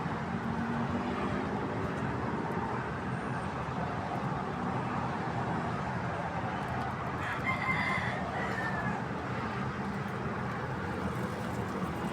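Backyard hens cluck softly and intermittently over a steady outdoor hum while they feed, with a rooster crowing faintly in the distance partway through.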